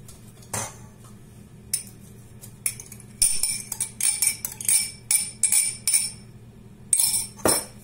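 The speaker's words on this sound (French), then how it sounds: "On mélange tout ça." Grated carrot and coconut are folded into madeleine batter in a bowl, a utensil clinking and scraping against the sides in a steady run of close, rhythmic strokes after a few isolated knocks, with no talking.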